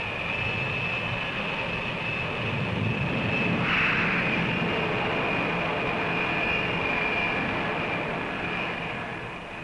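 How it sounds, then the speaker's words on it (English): A steam catapult launches an aircraft from a 1960s aircraft carrier deck, a loud continuous roar of jet engine and rushing noise that swells in the middle and slowly fades toward the end. "Strops attach the shuttle, and the aircraft is literally catapulted into the air."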